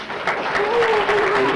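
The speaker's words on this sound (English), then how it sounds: "Show me with a little round of applause." Audience at an elementary school graduation clapping in a brief, steady burst of applause, moderately loud and dense, with no speech over it.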